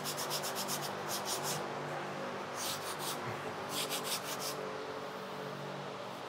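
Sandpaper rubs over a firefighter radio strap to touch up a raised spot of glue, making quiet, close scratchy strokes that come in short rhythmic bursts with pauses between them.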